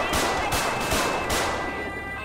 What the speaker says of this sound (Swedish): Nu sköt jag ifrån MC:n.